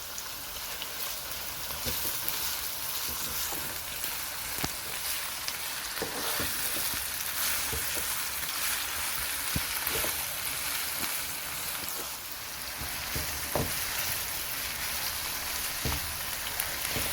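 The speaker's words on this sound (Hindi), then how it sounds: "अब प्याज के साथ इसको भी साथ ही भूनेंगे।" Onions and coarsely chopped green chillies fry together in a pan for a mixed vegetable sabzi, giving a steady, close sizzle with small crackles and occasional stirring scrapes, with no talking.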